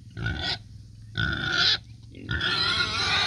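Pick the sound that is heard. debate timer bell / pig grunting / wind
pig grunting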